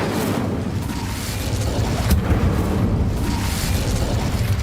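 The Incendio fire spell from Hogwarts Legacy gives a steady, dense roar of flame with a low rumbling body that holds at an even, loud level for several seconds, with no voices over it.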